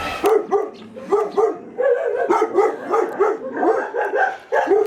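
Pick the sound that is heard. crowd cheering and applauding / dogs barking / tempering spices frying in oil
dogs barking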